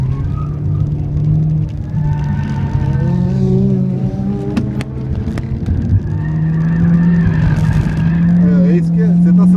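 Peugeot 307 accelerating hard around a race track on a track day, its engine note loud and close, climbing through the revs with a steady harmonic drone and a brief tire squeal.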